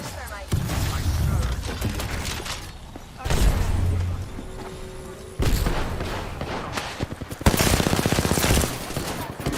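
Gunfire in the video game Apex Legends: repeated bursts of loud automatic shots come in several separate rounds with short quiet gaps between them, mixed with mechanical clanks and game sounds.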